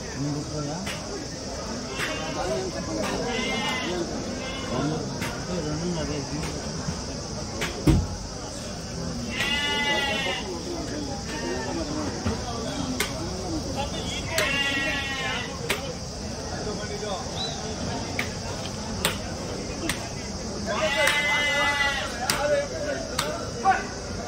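Rams bleat at a busy village livestock market held before Bakrid, with several wavering, drawn-out calls heard over steady crowd chatter and background noise.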